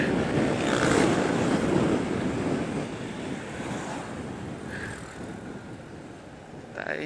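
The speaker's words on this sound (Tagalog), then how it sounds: "Ang lamig ng bumubugang hangin, parang galing sa aircon." Cold wind blowing hard on a roadside in Tagaytay, a steady broadband rush with gusts that swell loudest early on and ease slightly toward the end, with no talk.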